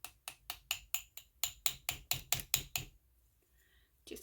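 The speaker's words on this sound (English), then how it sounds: "take a little hammer." Small non-metal hammer tapping an adjustable ring, about a dozen sharp, evenly spaced close taps followed by near silence.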